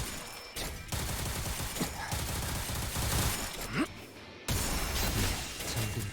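Rapid gunfire bursts from a skill attack in the video game Limbus Company, dense rattling shots with sharp breaks and a brief crash, moderately loud and continuous across the stretch.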